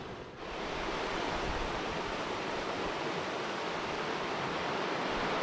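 River water rushing steadily at close range, a dense, even roar that holds constant throughout with no voices over it.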